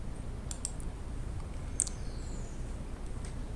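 A computer mouse gives a few faint, scattered clicks against a quiet hiss while someone navigates a digital textbook.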